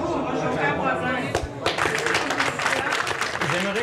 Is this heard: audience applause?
yes